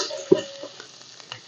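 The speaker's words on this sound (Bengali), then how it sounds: "এবার এর মধ্যে রসুন বাটাটাও দিয়ে দিলাম" Garlic paste added to lightly fried onion paste in hot oil for prawn malai curry, with one soft thud as it lands, then a short close sizzle and a few light stirring taps.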